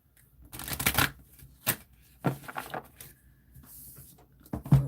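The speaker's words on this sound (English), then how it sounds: "Move these because it's not shuffling as good as I want it to." A deck of cards being shuffled near the microphone in a quiet room, with several short riffling bursts and soft taps spread across a few seconds and nobody speaking.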